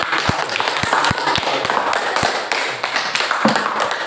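Applause from a classroom audience of teachers after a group presentation, with scattered claps and sharp taps in irregular rhythm, fairly close and steady for several seconds.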